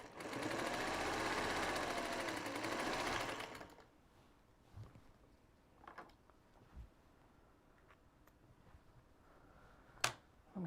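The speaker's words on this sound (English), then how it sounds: "we're just going to sew some 4 patches together" A sewing machine runs a fast continuous stitch for a few seconds while quilt patches are joined from scraps, then stops, leaving quiet handling clicks and taps.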